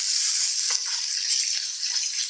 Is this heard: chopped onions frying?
yes